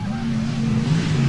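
Sprintcars race at the Canberra Powerdome speedway during the 1989 Australian Sprintcar Title heats, making a loud, steady engine drone that holds throughout without a break.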